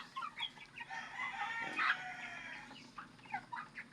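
Several young Rhode Island Red chicks cluck and murmur close by, with one louder squawk in the middle over a faint background hum.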